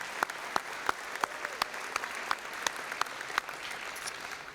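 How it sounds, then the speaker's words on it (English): Scattered applause in a school gymnasium during a basketball court dedication, with a few distinct loud claps standing out above a softer, thinner background of clapping. "so we can give them a round of applause."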